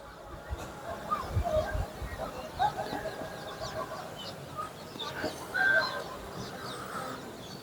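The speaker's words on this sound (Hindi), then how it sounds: "देखिए पक्षियों की आवाज़ें" Birds call outdoors, clucking and chirping at moderate distance in scattered bursts over a continuous ambient background.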